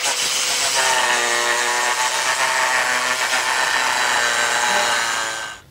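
Angle grinder cutting tile, a loud continuous high-pitched whine with a gritty edge, held steadily for several seconds before cutting off at the end, with no talking.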